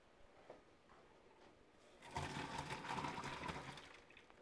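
Water being poured off boiled mushrooms, a rushing splash that begins midway and runs steadily for about two seconds before tapering, close and moderately loud after a few small clatters, with no talking.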